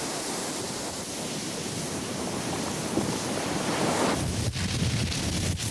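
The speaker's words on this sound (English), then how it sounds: "Heavy surf pounding against the growing shoreline" Heavy surf pounds a growing lava shoreline at Kilauea, Hawaii, a continuous loud roar of breaking waves and churning water with no voices.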